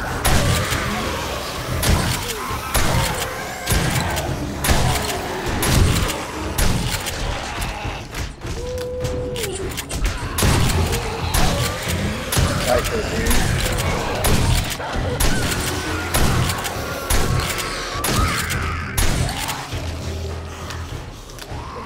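Shotgun blasts and heavy combat noise during a horde night in 7 Days to Die, repeated loud bursts over a busy, cluttered mix of game sounds and mechanical clatter.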